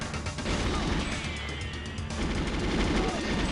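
Dense, continuous gunfire and impact crashes from enemies being shot in the video game GoldenEye, on the train level, steady and loud throughout with a brief lull in the middle.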